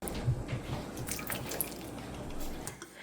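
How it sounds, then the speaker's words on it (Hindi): Boiled peas and carrots tipped from hot water into a bowl of ice-cold water, giving steady wet splashing and dripping close by, with scattered droplet taps over a low watery wash. "सब्जी को गर्म पानी से निकाल के राइट अवे ठंडे यख पानी में डाल देना है।"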